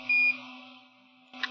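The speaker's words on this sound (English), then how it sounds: "My phone is still beeping." Two short electronic beeps sound close by, the first a steady tone and the second a brief chirp after a pause, over a low hum.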